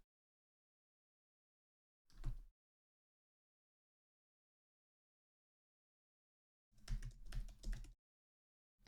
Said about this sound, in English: So we can just type in whatever.